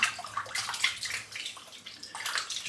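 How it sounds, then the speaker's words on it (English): A shaving brush is rinsed of soap under running water, giving a steady close splashing and trickling rush with small gurgling fluctuations throughout, no voices. "Just rinsing the soap out now."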